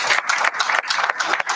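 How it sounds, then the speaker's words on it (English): An audience at a public lecture event claps for its sponsors, giving a brief burst of dense, steady applause at close range with no talk over it. "So a big round of applause for our sponsors as always."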